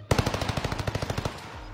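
Automatic gunfire in a video game: a rapid, steady burst of about fifteen loud shots in quick rhythm lasting just over a second, then it stops, with no talk over it.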